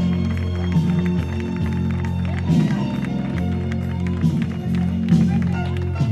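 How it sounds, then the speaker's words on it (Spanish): Crowd applause and cheering for the women winners at a podium ceremony after a 10 km road race, steady clapping under a loudspeaker announcer's voice and background music. "un fuerte aplauso para ellas"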